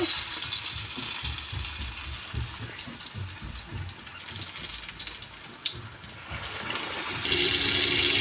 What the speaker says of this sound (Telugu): ఇలా కలర్ బ్రౌన్ కలర్లో వచ్చేంత వరకు వేయించుకోవాలి